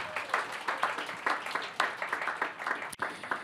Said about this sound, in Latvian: tāpēc katru mēs droši pavadīsim ar aplausiem